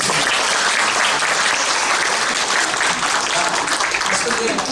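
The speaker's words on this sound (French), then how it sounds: "on devrait l'applaudir" Loud, sustained applause from a conference audience for a professor, a thick continuous wall of clapping hands filling the room close up, with no pauses.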